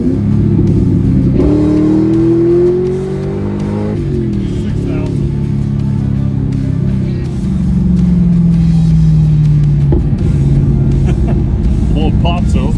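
A 2000 Ford Mustang Cobra R with Bassani side exhaust revs and drives, its deep engine rumble rising and falling in pitch through several throttle pulls, loud and close, with a person talking over it.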